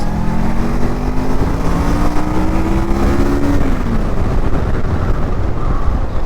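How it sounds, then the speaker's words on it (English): A Kawasaki 650cc motorcycle being ridden, with a loud, steady engine drone whose pitch rises through the gears and then drops, joined by heavy wind rush, with no talking. "the bike just flies, guys. Seriously, it's really fun to ride a Kawasaki. This is a 650cc."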